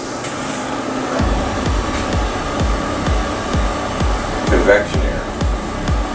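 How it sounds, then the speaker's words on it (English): A homemade convection fan runs beside a wood stove with a steady, loud whooshing airflow and a regular thumping pulse about twice a second, continuous throughout. "This is my convection fan. I built that fan and it's working great. So I'll dial that up."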